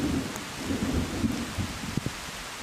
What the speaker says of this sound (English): As rain falls through the unfinished roof, work comes to a halt.